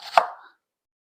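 A knife slicing thinly through a small onion, a single crisp cut against the board followed by silence.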